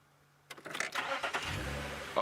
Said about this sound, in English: Oh, no, it didn't like me starting the car.